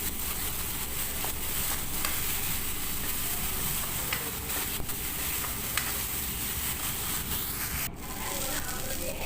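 Spice paste frying in a pan for a small-fish mustard dish gives a steady, dense sizzle and hiss that fills the whole stretch, with faint scraping now and then.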